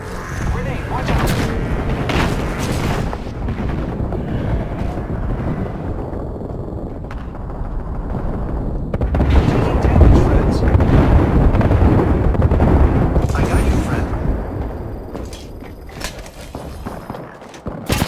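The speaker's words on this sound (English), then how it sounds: "Grenade, watch out." Grenade blasts in the shooter game Apex Legends, loud booming explosions and rumbling impacts rolling through a busy battle mix, with gunfire and game sounds around them.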